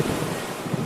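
Huge waves in a stormy sea crashing against rocks, a brief burst of loud churning surf with wind rumble and no talking.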